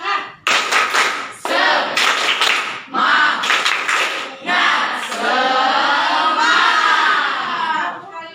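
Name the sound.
group rhythmic clapping, 'tepuk semangat' classroom clap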